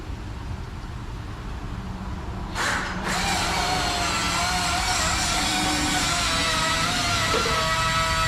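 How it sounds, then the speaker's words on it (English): A power tool whirs steadily as it drives bolts into a vehicle's differential cover, starting after a low hum and running loud and close with a rising pitch. "I'll go ahead and get a couple bolts in to hold its position."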